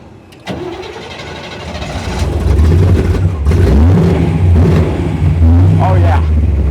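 A 1929 Ford Model A rat rod engine cranks over with a sharp catch, fires and settles into a loud, steady low rumble with occasional revs, close by, with a voice speaking briefly over it.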